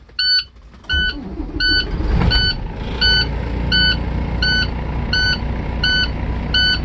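A truck engine idles steadily in the cab after starting, with a loud low rumble under a regular series of high electronic beeps and a brief surge near the start.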